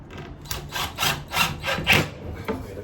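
A pencil is drawn along a wooden piece during a micro camper conversion build, making a series of about six soft, rhythmic scratching strokes, close and fairly quiet.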